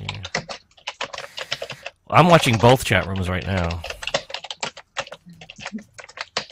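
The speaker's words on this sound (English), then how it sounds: "is that you typing" Rapid clicking keystrokes on a computer keyboard rattle on almost continuously while a person talks over them.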